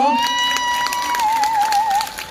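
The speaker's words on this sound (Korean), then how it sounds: "우리 구립 전통예술단 뜨거운 박수 부탁드립니다" Crowd at an outdoor balcony concert claps and cheers for a district traditional arts troupe, with a sustained high sung or whistled tone carrying over the applause and voices.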